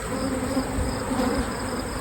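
Honey bees swarm around frames of a hive packed with honey during a honeyflow, giving a steady, dense buzz that fills the whole stretch close by.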